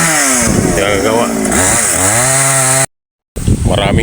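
A chainsaw cuts a dead tree into firewood, loud and close, its engine pitch rising and falling as it bogs and revs, then a brief dropout before the saw noise resumes.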